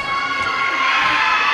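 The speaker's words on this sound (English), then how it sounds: "a little bit of cheering" Crowd noise and light cheering in a gym before a girls' high school volleyball match between Medfield and Hopkinton, a steady, even wash of many voices with no standout shouts.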